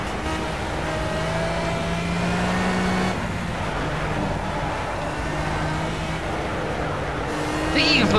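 Pagani Zonda R race car engine in Project CARS during a night race, a sustained high droning tone with gear changes and shifts in pitch, loud and close, with a voice talking briefly over it.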